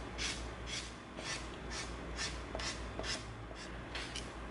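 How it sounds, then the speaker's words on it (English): A sanding stick rubbed back and forth over EVA foam, giving a quiet, steady series of soft rasping strokes at a regular rhythm, close up and with no talking. "Let's get a sanding stick out."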